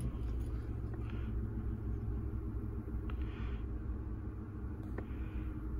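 A Ford F150 engine idles steadily after starting, a continuous low rumble close by with a few faint clicks and brief higher noises over it, and no clear talking.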